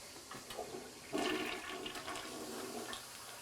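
A toilet flushes in a home, a rushing swirl of water that surges after a second and keeps draining at a moderate, fairly faint level.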